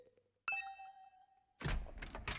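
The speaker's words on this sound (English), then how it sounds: "the sound of my doorbell ringing over and over" Doorbell in the video game The Hundred Line: Last Defense Academy, a sharp struck ding that rings out for about a second, then a loud burst of rapid repeated ringing.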